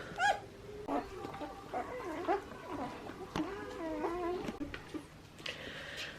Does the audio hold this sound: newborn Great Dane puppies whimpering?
yes